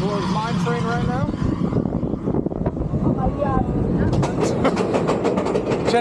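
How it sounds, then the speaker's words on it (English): Seven Dwarfs Mine Train roller coaster at Magic Kingdom, rumbling and clattering loudly along its track throughout, with riders talking and calling out over the steady ride noise. "We're on Seven Dwarfs Mine Train right now."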